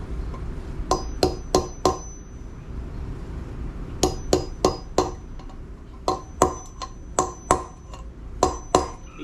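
A hammer strikes a punch to drive a bearing race into a boat trailer hub, sharp metallic blows in quick groups of three to five with short pauses between, close and ringing.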